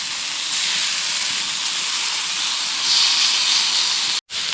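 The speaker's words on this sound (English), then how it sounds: "I'm actually gonna put the steak back on" Steak sizzling on a camp stove on a backpacking trip in the Arkansas wilderness, a steady, loud, close hiss that holds evenly and then cuts out for a moment near the end.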